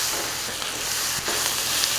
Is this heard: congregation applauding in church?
no